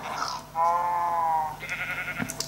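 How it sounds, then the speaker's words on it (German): A Minecraft sheep lets out two quick in-game bleats, the first long and wavering, the second shorter, clear and close with nothing else over them. "hier mal ein Schaf"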